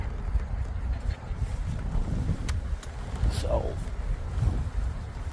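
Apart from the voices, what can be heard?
upstream wind blowing by the river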